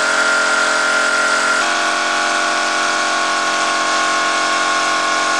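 A Wilesco D 222 toy steam engine runs below full throttle driving a Jensen generator, giving a loud, steady, continuous mechanical whir and hum with a slight shift in tone early on, no talking.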